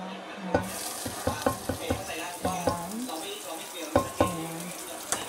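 Garlic and onion sauté in a hot pan for kare-kare, a steady sizzle broken by repeated clacks of a utensil stirring and scraping, with brief faint voices.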